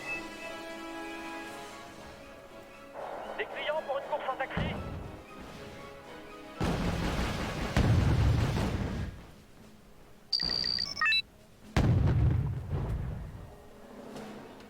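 Artillery barrages and explosions in the Wargame strategy game, heavy booms bursting in separate loud bouts with quieter gaps between, while a player talks over parts of it.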